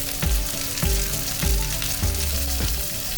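Crab fries in oil with ginger slices, a close, steady sizzle broken by rhythmic scraping stirs roughly every half second, with no talking.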